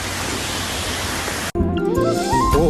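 A waterfall pours down on a hill-station trip in Kodaikanal as a dense, steady broadband roar. It cuts off abruptly halfway through, and a quieter scene with tonal sounds follows.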